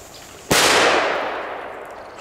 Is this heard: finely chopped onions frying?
no